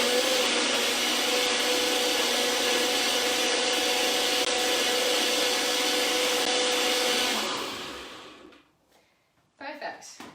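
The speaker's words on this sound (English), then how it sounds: "I'm going to do a blender, make a bit of noise." A blender whirs loudly and steadily as it blends a chocolatey fertility smoothie, running for about eight seconds before winding down to near silence, followed by a short burst of voice at the end.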